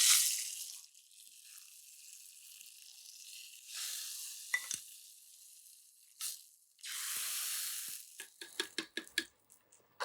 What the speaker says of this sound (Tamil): இப்போ நம்ம வந்து இந்த தாளிப்பை என்ன செய்ய போகிறோன்னா அப்படியே இதில் சேர்த்துடலாம்.